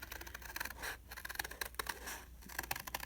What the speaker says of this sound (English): So I'm just going to cut around it